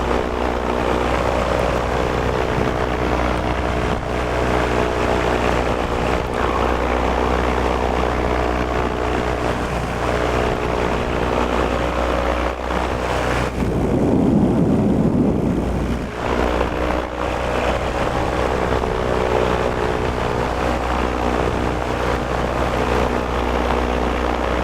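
A paramotor's propeller engine drones loudly and continuously during a cross-country flight over fields, with a brief gust of wind rushing in the middle and no talking.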